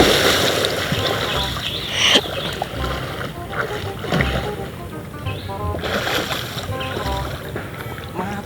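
Water splashes and churns near the mic as someone dives into water after fish, with uneven sloshes over wind and someone talking throughout.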